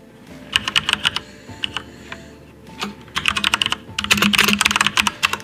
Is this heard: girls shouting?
no